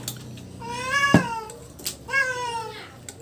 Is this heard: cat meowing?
yes